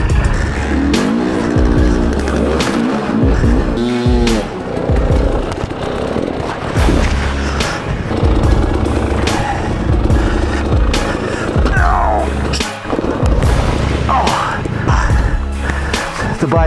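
A 2019 KTM 300 XC-W TPI two-stroke dirt bike engine fires up and runs loud and close in rough enduro terrain, revving in bursts with a steady throbbing idle between them.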